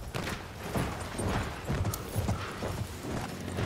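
A horse gallops in the Battlefield 1 video game, with rhythmic clip-clop hoofbeats repeating steadily throughout at a quiet, moderate level, mixed with faint game noise.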